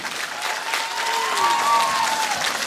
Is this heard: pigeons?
no